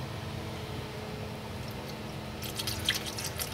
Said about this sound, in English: we're just going to put enough coolant into the system to where it just fills up about half the bottle